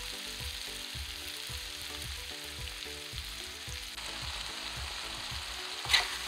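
Guava slices cook in a sizzling pan of Maharashtrian bhogi mixed vegetable, a steady close frying hiss with faint rhythmic low background noise and a brief clatter near the end.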